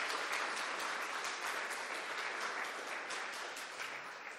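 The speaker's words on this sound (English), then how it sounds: "Let's have another round of applause, everyone." An audience at a creature design talk gives a continuous round of applause, many hands clapping at a fairly soft, even level that tapers slightly toward the end, with no speech.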